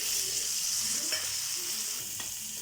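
Curry leaves hit hot oil with tomatoes and salt for a pirandai chutney, giving a steady, moderately quiet sizzle with a couple of faint clicks from stirring.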